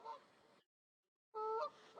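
Ducks waiting for food in Hanley Park call with honking quacks, a short burst, a sudden silence, then a louder close honk that trails off.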